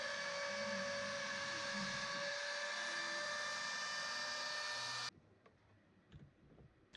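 A CNC router spirals through a wooden cutting board, giving a sustained high-pitched whine with a steady tonal hum for about five seconds before cutting off abruptly to quiet room sound with faint clicks.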